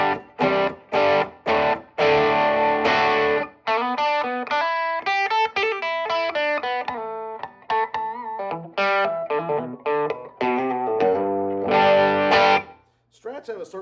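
Electric guitar through beefy humbucker pickups on a custom-built guitar, playing a distorted, punchy run of choppy chords and single-note licks with short gaps, close and loud.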